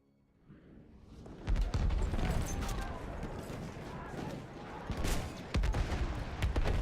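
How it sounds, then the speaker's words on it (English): Heavy machine gun fire in the World War I shooter Battlefield 1 rattles in sustained bursts after a quiet start, loud and close, with a sharp blast near the five-second mark and distant battle noise. "Enemy machine gun over there!"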